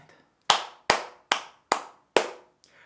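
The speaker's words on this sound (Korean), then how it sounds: "여러분 일단 박수 한번 치고 가겠습니다." Five sharp hand claps at an even, steady pace, close and loud, each ringing briefly before the next, with a faint sixth tap trailing at the end and no voices.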